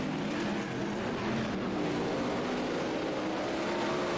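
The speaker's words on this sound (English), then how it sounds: "let the real race car outside go by there, folks. You might have heard that." A real race car passes by outside as steady, loud engine roar that holds through the whole stretch, with no talk over it.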